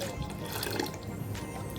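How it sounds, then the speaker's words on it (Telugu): Water is added to a thick carrot rasam in the pot, a soft continuous pour and splash that runs steadily for a couple of seconds at close range. "ఇంకొద్దిగా వాటర్ వేసుకుందామండి"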